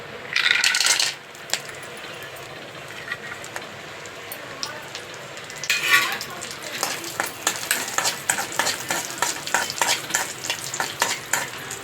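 Cashews and almonds fry in ghee with a crackling, popping sizzle, loud at first and then steadier, with a scrape of stirring and rattling nuts building toward the end.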